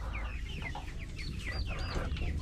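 Dekalb White chickens cluck and chirp in a battery cage, several short overlapping calls over a steady low background hum.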